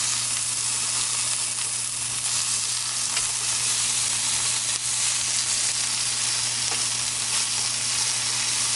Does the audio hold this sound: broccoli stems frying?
yes